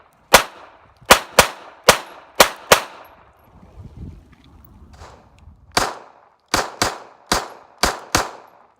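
Hi-Point .380 ACP pistol firing PMC 90-grain target rounds, a loud, close string of eleven sharp shots, five in a quick group, then a short pause with faint shuffling, then six more in rapid rhythm.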